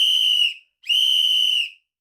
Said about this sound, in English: the guard blew his whistle, and the train was set to go